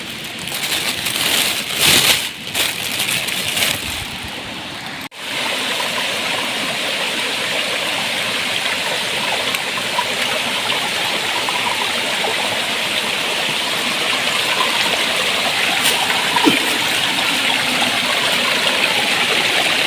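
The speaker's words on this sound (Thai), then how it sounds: "มีน้ำไหลมาจากภูเขาแล้วพี่น้องเด้อ เป็นน้ำตกเล็กตกน้อย" Small mountain waterfall in a forest after rain, water pouring and rushing steadily, loud and close throughout with a brief disturbance near the start.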